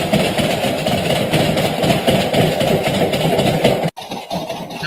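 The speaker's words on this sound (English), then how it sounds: "Sounds like the washing machine's off balance." An off-balance washing machine runs with a loud, steady low thumping rumble, then a sudden brief drop and knock near the end before the churning resumes.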